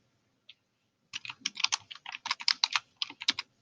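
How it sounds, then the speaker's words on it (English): Quick bursts of keystrokes on a computer keyboard, one isolated tap followed after a pause by a rapid run of clicks in short clusters, close and fairly quiet with no talking. "I'm going to go ahead and type in temperature."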